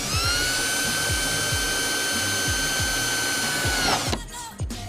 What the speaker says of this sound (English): So just drill there?